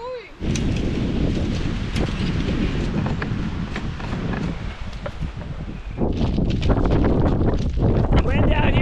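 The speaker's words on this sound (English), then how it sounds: "The wind out here is so strong right now" Strong wind roars outdoors at a camp beside lava rocks, a loud continuous buffeting rush hitting the microphone, with brief voices partly buried under the gusts.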